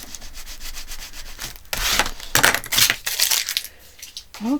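Rubbing and crinkling of decoration being pressed down onto a journal page, a series of close, uneven scraping rubs with short bursts of louder friction.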